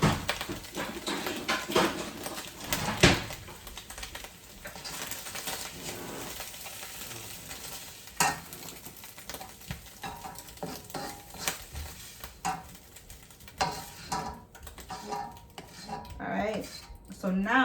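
A metal spoon scrapes and stirs shrimp and chicken fried rice in a hot pan, irregular clinks and scrapes close up over a low sizzle.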